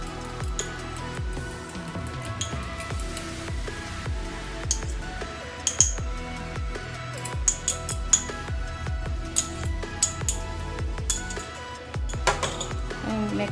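An egg being mixed into ingredients in a bowl for Nanaimo bars, with rhythmic clinks and scrapes of a utensil against the bowl repeating steadily and close by.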